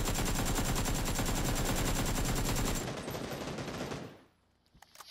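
Rapid automatic gunfire in a shooting video game, a loud, dense burst of shots lasting several seconds before fading out, with no voices over it.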